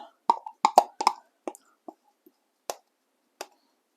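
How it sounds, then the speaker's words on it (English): Two cracked egg yolks go from a spoon into a chocolate ripple mousse mixture: a handful of short, wet plops and light spoon clicks, close and isolated, separated by quiet gaps. "we're going to add our 2 egg yolks that we cracked earlier"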